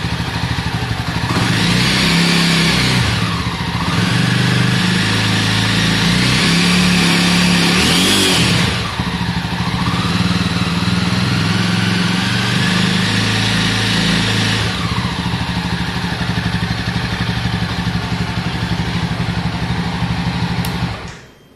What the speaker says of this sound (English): this is the kind of typical sound that you get with a four-stroke engine